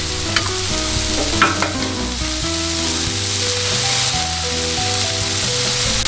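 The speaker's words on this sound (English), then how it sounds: "Meanwhile, over here, I'll crack a few eggs. If your griddle is seasoned properly, your eggs will never stick." Eggs hit a hot, seasoned griddle and sizzle in a continuous crackling hiss, with steady musical tones running underneath the whole time.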